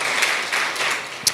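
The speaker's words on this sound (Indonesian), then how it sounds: "Berikan tepuk tangan kita untuk Tuhan kita." A church congregation claps in praise to God, a dense, steady wash of applause from a crowd with a few louder individual claps standing out.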